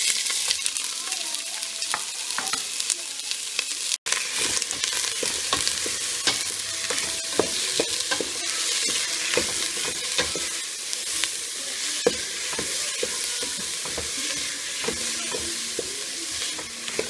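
Onions and garlic sauté in hot oil for a spaghetti sauce, giving a steady close sizzle broken by frequent scraping stirs and utensil taps, with no voices.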